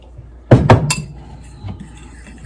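Utensils clink against a bowl as two beaten eggs go into a coconut-flour banana protein waffle batter: a few sharp close clinks in quick succession, then a faint tap, with no talking.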